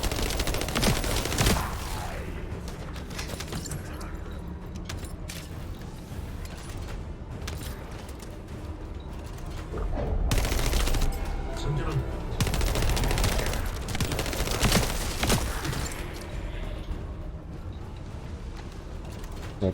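Gunfire from a video game fight over a gun, with dense bursts of shots and mechanical clatter running continuously at a steady loud level, briefly swelling louder around the middle.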